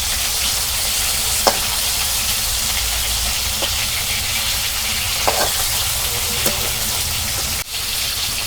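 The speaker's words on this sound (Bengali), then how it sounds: "মাছগুলো সুন্দর করে আমি ভাজা নিব" Rupchanda (pomfret) fish fries in hot oil in a kadai for a tangy tomato dish, giving a steady, loud sizzle throughout, with a few sharp spatula clinks and pops scattered on top.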